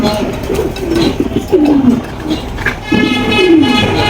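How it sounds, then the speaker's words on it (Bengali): A Giant Homa pigeon coos twice, each call a drawn-out, falling throaty phrase, close and fairly loud over faint background chatter. "এখানে দেখতে পাচ্ছেন খুবই সুন্দর এক কবুতর জায়ান্ট হুমা"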